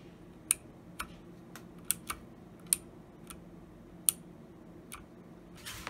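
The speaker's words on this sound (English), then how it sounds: "it only clicks on the down click, not on the up click" Typing on a Drevo Gramr 84-key mechanical keyboard with Outemu blue switches, giving sharp, isolated clicks at an irregular pace, about one or two per second over a low steady hum, close and fairly quiet.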